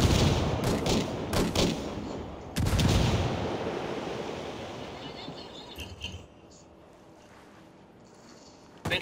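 Video game gunfire during a chaotic multiplayer firefight, several loud bursts of shots and impacts in the first few seconds, then a quieter stretch of action with scattered pops and a final sharp report.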